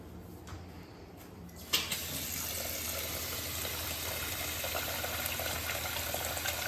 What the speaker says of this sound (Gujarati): સૌપ્રથમ આપણે ચોખાને ધોઈ લઈશું.